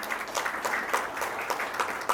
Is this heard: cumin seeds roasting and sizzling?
no